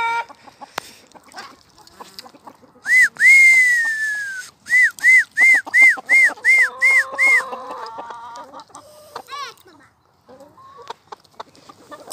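Farmyard chickens fed an overripe pumpkin give loud, close clucks and whistle-like squawks, one long call then a quick rhythmic run of repeated calls, with quieter pecking and scratching before and after.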